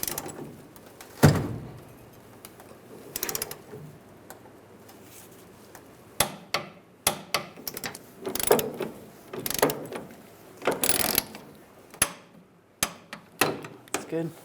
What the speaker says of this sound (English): Now we'll torque these to 30 foot-pounds.